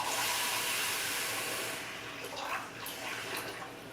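A cup of water is poured into a blender for strawberry granita, making a steady, close hissing splash for about two seconds before it trails off into quieter trickles and small clinks.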